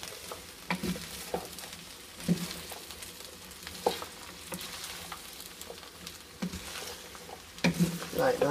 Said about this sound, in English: So we just want to keep giving them a bit of a stir.